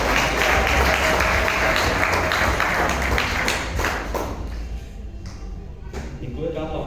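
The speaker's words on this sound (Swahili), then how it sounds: "Makofi kwa katibu" A church congregation applauds for the secretary after a large Pentecost-week conference, with dense, steady clapping for about four seconds that then thins and fades as voices carry on.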